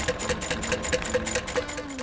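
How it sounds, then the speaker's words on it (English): A sewing machine stitches a leather bag inside out, running in a steady, close mechanical hum with a rapid, even needle rhythm for a couple of seconds. "the way this bag goes together is I sew it inside out."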